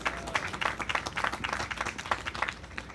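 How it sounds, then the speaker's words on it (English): Audience at an outdoor summer graduation ceremony for a machinist training program breaks into scattered applause, a brief, fairly faint burst of clapping from a modest crowd with a few murmured voices. "You can applaud that, okay?"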